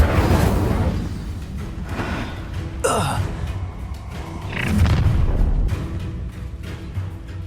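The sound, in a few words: Incendio fire spell in Hogwarts Legacy video game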